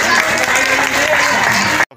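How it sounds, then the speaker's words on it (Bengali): A crowd applauds at an outdoor Karam puja fair in Kashpur, with dense steady clapping mixed with crowd noise that cuts off abruptly at the end. "ওনার জন্য এটা জুড়ে হাততালি প্লিজ"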